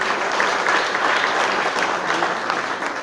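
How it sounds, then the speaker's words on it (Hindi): At a foundation event welcoming guests, an audience gives a guest a strong round of applause: a thick, continuous burst of many people clapping close to the microphone, with faint crowd murmur underneath. "उनका भी जोरदार तालियों से स्वागत होना चाहिए"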